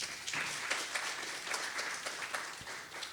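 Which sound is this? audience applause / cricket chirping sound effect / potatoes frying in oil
audience applause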